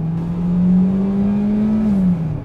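Peugeot 301 engine revving under hard acceleration, a steady loud drone that climbs slightly in pitch and holds before easing off, close and continuous with no talk.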